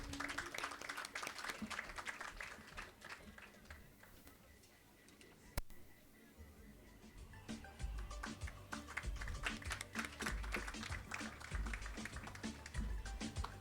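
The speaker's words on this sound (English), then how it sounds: "A big round of applause, ladies and gentlemen." An audience at a launch event applauds as guests are invited up, a dense patter of clapping that thins for a moment, then picks up again and builds louder toward the end.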